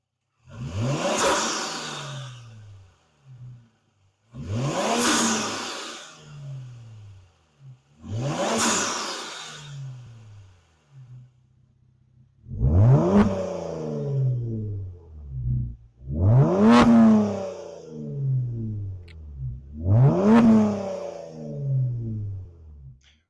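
A 2019 Kia Stinger engine revs six times in a row, first three sharp blips that rise and fall, then three heavier, longer revs with a deep growl, each separated by brief pauses at idle.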